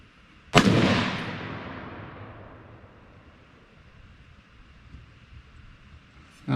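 A single sharp gunshot from a PSA PA10 Gen 3 .308 semi-automatic rifle at an outdoor range, loud and close, with a long echoing decay that fades over several seconds, and the start of another shot at the very end.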